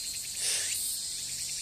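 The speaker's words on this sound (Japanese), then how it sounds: "ちょっとセミが逆にうるさくてですね" Tsukutsuku-boshi cicadas chirp steadily in late-summer heat, a bright, pulsing high buzz that wells up briefly and then holds at a moderate distance, with no voices.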